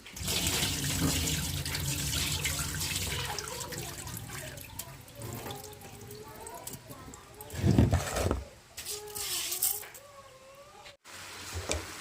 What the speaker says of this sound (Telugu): వాటర్ అయితే నింపేసుకుని